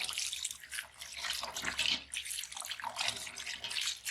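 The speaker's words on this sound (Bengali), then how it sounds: "শাকগুলো ভালো করে ধুয়ে নিচ্ছি ভাসিয়ে ভাসিয়ে যাতে বালি না থাকে" Water splashes and swishes as leafy greens (gima shak) are washed in a vessel to remove sand, with rhythmic, close sloshing surges and no voices.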